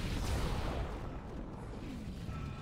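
Gunfire from weapons in the sci-fi horror video game Dead Space, a dense, continuous burst of booming shots lasting the whole moment at steady loudness, with no talking over it.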